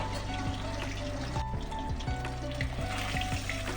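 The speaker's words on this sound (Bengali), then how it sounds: "দেখুন মাছগুলো কিন্তু আমার ভাজা হয়ে গেছে।" Catla fish pieces fry lightly in a pan with a close, continuous crackling sizzle, broken by a few brief clinks over a short stretch.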